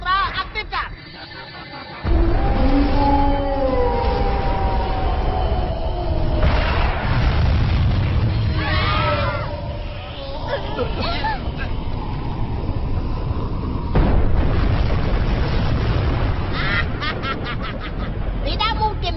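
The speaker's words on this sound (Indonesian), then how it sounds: "Tembakan gelombang ultra aktifkan." Heavy booming blasts and rumbling explosions from an ultra wave cannon in a Doraemon animated movie roll through loud, dense effects, with excited voices shouting over the chaos.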